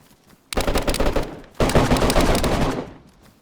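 Two loud bursts of rapid automatic gunfire in the survival game DayZ during a base raid, the first about a second long and the second longer, both close and harsh with no talk over them.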